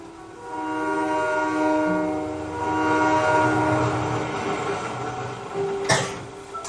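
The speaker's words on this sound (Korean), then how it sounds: "드디어 기차가 죽음 정거장에 도착했다." Train rolling along the track, with a sustained horn-like tone and a steady mechanical rumble that swells and eases, ending in a sharp clank as it nears a station.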